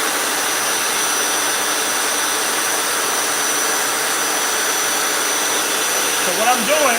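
Royal Shampooer vacuum with its brush motor running, a loud, steady high-pitched whine and rush of air that continues throughout, with a brief warble near the end.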